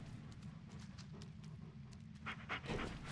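A dog panting in the horror game Blair Witch, quick rhythmic breaths low under a dark ambient drone, with a few brighter rustles toward the end.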